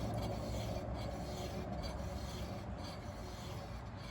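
A worn rear wheel bearing on a Fiesta ST150 gives a constant low rumbling roar with a gritty rasping edge, continuous and fairly loud throughout with no talk.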